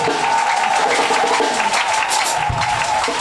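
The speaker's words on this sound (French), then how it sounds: "Acclame bien ton Dieu déjà." A church congregation at a Sunday service applauding and acclaiming, a loud, dense wash of clapping and crowd voices that runs unbroken from start to finish.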